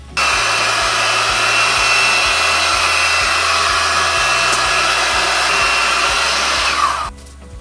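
A heat gun blows steadily and loudly for about seven seconds, warming a plastic visor for a costume helmet, then cuts off abruptly near the end.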